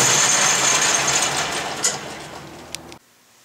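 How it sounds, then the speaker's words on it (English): An Atlas lathe spindle turns with the carriage under power feed, making a steady mechanical whir with high-pitched hum, tapering slightly before stopping abruptly near the end. "when we turn the spindle on and engage the half nut lever, you'll see that the carriage is now feeding"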